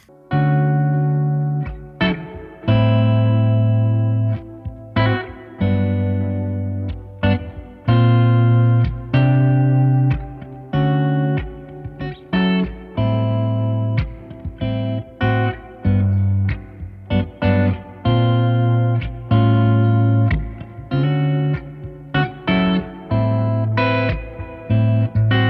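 A Mayones Aquila Elite S electric guitar on the neck pickup is played through effects, giving warm, rhythmic chord strums and riffs with repeated punchy attacks, loud and steady throughout.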